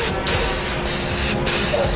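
Satin black spray paint hisses from an aerosol can onto a hubcap in three steady, loud bursts separated by brief pauses.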